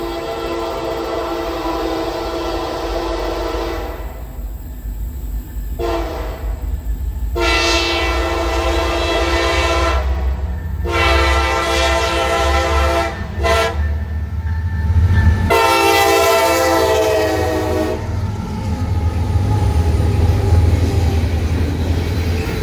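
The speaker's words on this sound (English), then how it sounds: "SD70 ACC NS 1837 would lead the northbound mixed freight with SD70 Mac WFRX 8861 trailing third in the lash-up" A northbound Norfolk Southern mixed freight led by an SD70ACe locomotive, with an SD70MAC third in the consist, rumbles past up close. The horn blasts repeatedly in long and short bursts over the steady roar of the engines and wheels.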